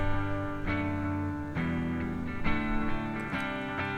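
Electric guitar in a mix of a song, panned right with no EQ or reverb, strummed chords changing roughly every second, steady and fairly dull in tone with no voices.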